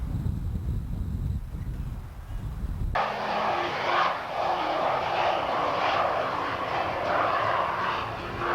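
An F9F jet aircraft roars past. A deep rumble gives way to a loud, sustained broadband engine roar that holds steady for several seconds.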